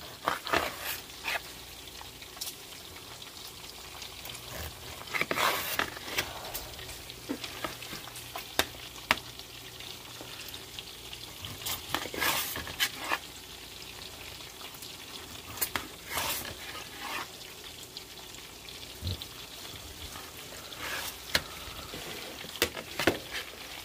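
Bacon frying in a pan for a B.E.L.T. sandwich, a steady soft sizzle with scattered clicks and scrapes of flipping, faint and continuous.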